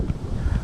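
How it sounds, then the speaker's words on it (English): Wind blowing through a small town's main street as it picks up ahead of a hurricane, a steady low rushing roar with gusty buffeting on the microphone and no other clear sounds. "It might get a little bit loud because the wind's picking up."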